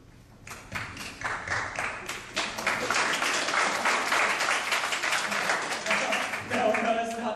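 A small group applauds in a room, the clapping swelling after a quiet start and holding steady, and a voice begins speaking over the end.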